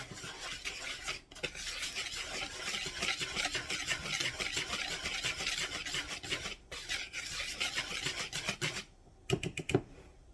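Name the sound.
whisking sugar into a mixture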